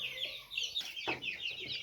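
Chickens cluck in a coop where chicks are kept, a few close, fairly faint clucks and calls in quick succession.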